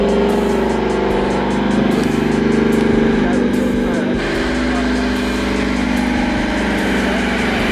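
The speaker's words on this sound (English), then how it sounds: "Probably can't hear me because they're running cars on the dyno." Cars running hard on a chassis dyno at a horsepower competition event, a loud continuous engine roar filling the whole clip, steady and close with no breaks.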